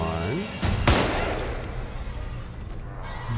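Gunfire from a weapon in The Evil Within 2, with a sharp loud shot near the one-second mark over a busy game soundscape, followed by decaying reverberant noise; a voice is present under the action.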